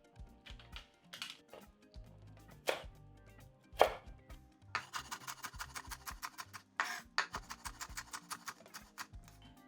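A knife cuts and scrapes through a jalapeño chili on a board to remove the seeds, sounding as sharp close taps and rapid clustered clicks with short pauses in between.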